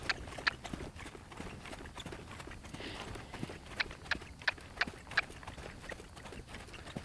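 An off-track thoroughbred walks on a lunge line during training, its hooves clip-clopping in a steady, regular rhythm with sharper individual strikes, close by and fairly clear over light background noise.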